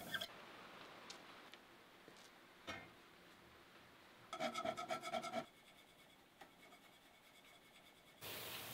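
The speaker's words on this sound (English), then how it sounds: "I started off following Joseph Whitworth's idea of using hand scraping to match the surfaces." A hand scraper shaving a metal straight-edge so its surfaces match: faint, close rasping strokes with light ticks, then a brief louder gritty scraping passage.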